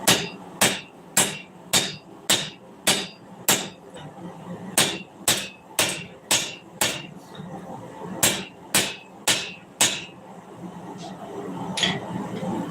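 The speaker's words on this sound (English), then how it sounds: "how bad is the ring on my anvil tonight?" Hammer blows ringing on a blacksmith's anvil fitted with a magnet to damp the ring, about eighteen sharp metallic strikes in a steady rhythm, close and loud, with a brief pause near the end.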